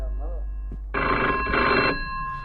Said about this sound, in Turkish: Telefon çalıyor.